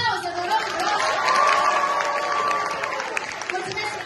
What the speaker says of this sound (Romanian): senzațional, aplauze, vă rog, vă rog